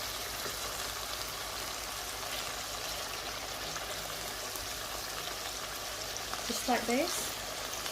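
Meatball kofta for a kofta curry frying in a pan, giving a steady low crackling sizzle throughout, with a brief spoken phrase and some stirring clatter near the end.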